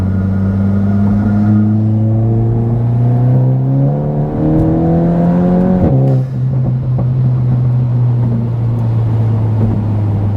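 Stage 1 tuned VW MK8 GTI pulling hard in third gear, engine note climbing steadily in pitch over several seconds, then a brief dip at a shift and a steady drone continuing, loud and close with no talk.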